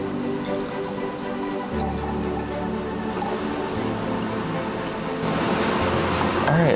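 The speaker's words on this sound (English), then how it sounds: "we're going to pour some biodiesel out" Biodiesel pours through a funnel into a container in a lab, a soft continuous trickle and splash running for several seconds over a steady background hum.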